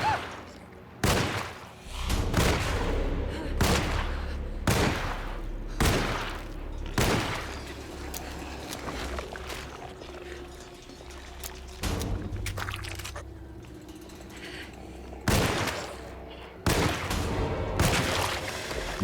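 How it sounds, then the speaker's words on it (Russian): Gunfire in the video game Alone in the Dark: about ten sharp shots come in irregular bursts over a low, murky ambient backdrop. "10 выстрелов в никудашеньки просто."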